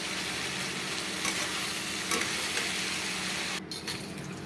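Lentils poured into a full, hot kadai for a home-cooked birthday meal hiss with steady sizzling and faint stirring clinks, a continuous frying noise close by that dips briefly near the end.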